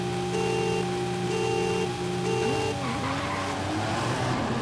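A race car in Forza Horizon 5 launches in second gear with 1500 Nm of torque, its engine droning in steady held tones before climbing and wavering, with tire squeal layered over the sustained roar.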